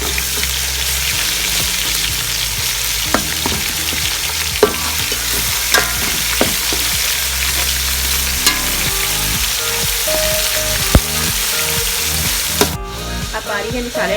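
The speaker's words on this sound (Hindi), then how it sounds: "कीमा डाल के इसको भूनेंगे जब तक कीमे का रंग बदल जाएगा तब तक" Minced keema browns in a hot pan with a constant close sizzle, punctuated by regular scraping and knocking strokes of a stirring spoon; the frying cuts off abruptly near the end.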